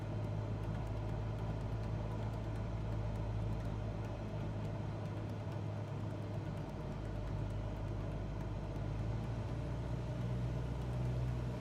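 Single-engine aircraft engine throttled back to 1500 RPM during approach in Microsoft Flight Simulator 2024, a steady low droning hum that holds constant and fairly loud throughout, with no talking.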